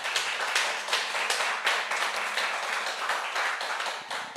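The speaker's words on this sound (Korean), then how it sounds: "한인봉 장로님께 다시 한번 감사의 박수" Sustained audience applause of thanks after a church lecture on biblical authority, dense hand clapping at steady loudness from a mid-sized crowd, with no voices over it.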